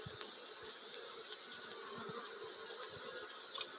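Honeybees swarm in a dense, steady buzzing drone around an open beehive being removed in Jamaica, close and continuous with no voices.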